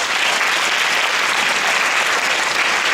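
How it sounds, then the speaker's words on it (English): A crowd claps steadily for judges at a girls' final awards ceremony, the applause dense, even and loud from start to finish, with no voices heard above it. "Let's start by giving each of them a round of applause"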